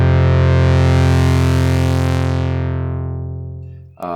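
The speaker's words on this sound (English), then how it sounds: "There's an overdrive. Hear that? Bit more power to the sound." A sustained, buzzy Novation Peak synthesizer chord with gritty overdrive distortion, loud and steady, fading slightly before a brief retrigger at the end.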